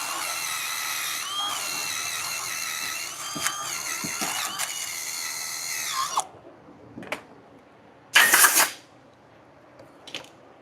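A power tool grinds loudly and steadily for about six seconds while a Firman generator is installed on a camper, then stops, followed by a few scattered knocks and one brief, harsh burst near the end.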